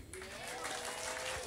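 Audience applause at a Philippine business presentation, a steady dense patter of clapping filling the whole moment at moderate loudness, with the start of a voice near the beginning.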